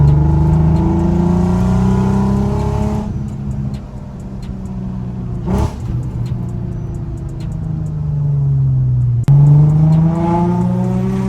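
A Nissan 350z with no power steering on a test drive, its engine droning steadily and climbing through revs, easing off briefly, then pulling hard again with rising harmonics, loud and close throughout.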